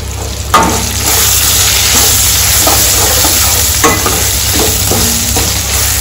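Tamarind rice mixture sizzles steadily in a hot pan, with a wooden spoon scraping and stirring at intervals; loud and close, no voices.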